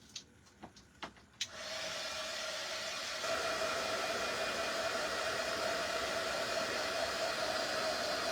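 A compact base dryer for a gel nail design switches on after a few light taps and clicks, then whirs steadily with a constant fan hiss and a faint whine, loud and close with no talking over it.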